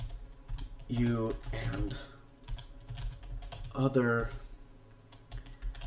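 Soft clicks of typing on a computer keyboard run quietly beneath a person speaking.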